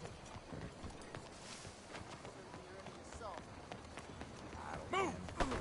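Hoofbeats of a horse galloping in Red Dead Redemption 2, a steady clip-clop rhythm under ambient game sounds, with voices calling out briefly near the end.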